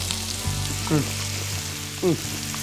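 Celery frying in a pan: a steady, close sizzle with a couple of brief squeaky tones rising above it.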